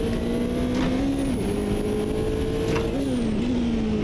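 A Nissan R89C Group C race car roars in the AMS2 racing game at Brands Hatch, its loud engine note holding steady and shifting pitch as it revs and changes gear, with no talk.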